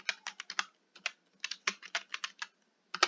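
Computer keyboard typing, close and clear, in quick bursts of keystrokes separated by short pauses, with no voices.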